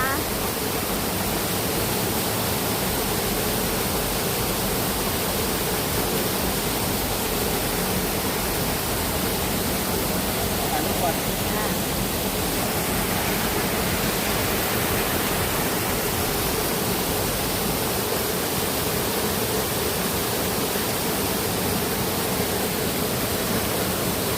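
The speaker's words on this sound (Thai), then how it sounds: "ตอนนี้น้ำตกชั้นที่สี่นะคะ ตอนนี้น้ำตกผางอยนะคะ" Phangoi waterfall at its fourth tier gives a steady, broad roar of rushing water, close and loud, constant across the whole stretch with no break and no talk over it.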